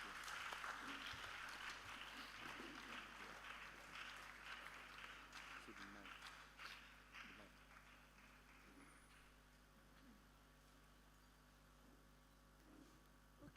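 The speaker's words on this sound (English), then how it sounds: "Please, let's keep clapping." Clapping from a mental health lecture audience in Osun, fairly loud at first with scattered sharp claps, then thinning out and fading to near quiet over the last several seconds.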